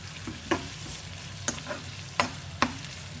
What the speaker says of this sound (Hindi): पहले प्याज को ब्राउन करेंगे, फिर इसमें बाकी के जो बाजार के इंग्रेडिएंट है वो डालेंगे।